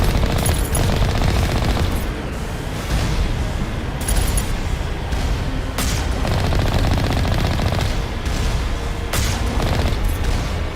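Constant video game gunfire from guns and turrets in the shooter Mass Effect Legendary Edition, loud and dense with rapid bursts and repeated sharp blasts, one every second or so, over a steady roar with no talk.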